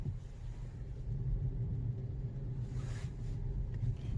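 A 2021 Opel Corsa E electric car driving in normal mode, heard from inside as a steady low road rumble and faint drivetrain hum, with no voices and no sharp changes.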